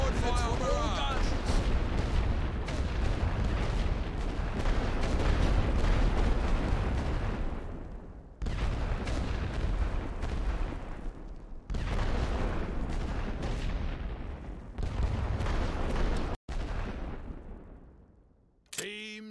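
A World War I artillery suppression barrage in The Great War: Western Front rumbles as dense, continuous booming that cuts off in abrupt breaks, with game voices speaking over the fire.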